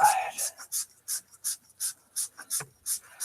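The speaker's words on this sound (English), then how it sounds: "I just run some 220 or 120 grit sandpaper, and I just turn the outside." Rhythmic strokes of 220 or 120 grit sandpaper rasp against the outside of a bowling ball in a shop, about a dozen quick, close rubbing passes with a soft breathy texture.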